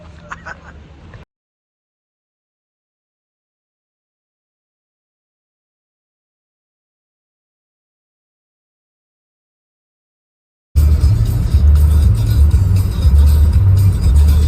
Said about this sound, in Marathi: चालली गाडी 120ला क्रूज लावलाय, आणि कंटिन्युअसली तशी चालू.